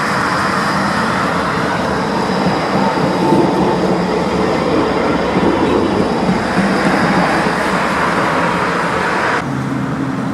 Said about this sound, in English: And here is a tram.